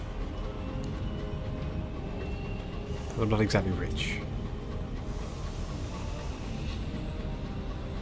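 A flying train engine in Sunless Skies rumbles low and steady, with a brief whistle-like blast rising midway; someone talks over it.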